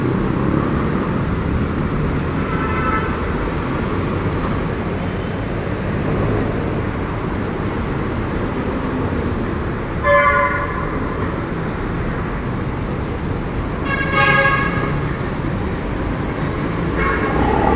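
Busy road traffic on a wide road in the rain, a steady wash of engines and tyre hiss filling the whole stretch, with a couple of short horn toots around the middle and later, no talk.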